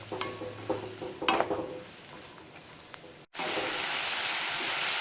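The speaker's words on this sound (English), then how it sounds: "You have to fry these vegetables in little high flame" Vegetables for Indian-style fried rice stir-fry over high flame, with a few sharp utensil clinks against the pan early on, then a loud, steady sizzle after a brief gap.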